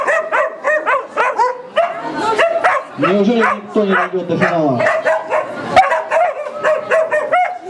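A dog barks and yips almost nonstop in rapid, excited bursts, loud and close, mixed with whining and whimpering, while someone speaks briefly over it.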